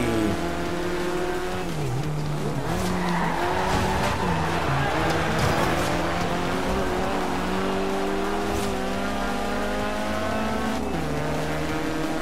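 A car driven in the racing game Forza Horizon 2, its engine droning and shifting pitch steadily throughout with tire squeal and skids layered on top, loud and continuous with no talking.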